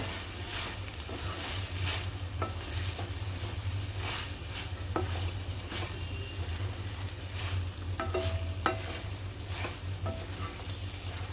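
Cauliflower and pea curry sizzles steadily in a pan while a spoon scrapes and stirs it, with irregular clinks and scrapes over a continuous frying hiss and no talk.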